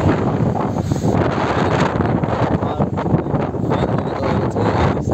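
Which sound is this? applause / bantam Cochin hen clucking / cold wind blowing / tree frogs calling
cold wind blowing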